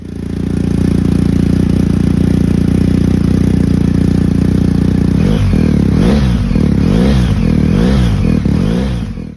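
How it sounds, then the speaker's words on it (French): A BMW R1250GS motorcycle fitted with an Akrapovic silencer with both baffles in and stock headers runs at a loud, steady idle, then gives a series of sharp throttle blips in the last few seconds. "Là, on est sur du pot Akrapovic avec les deux chicanes et la ligne d'origine."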